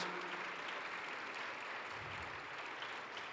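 A church congregation claps for the pastors, a dense, continuous round of applause that stays even from start to finish, with no speech.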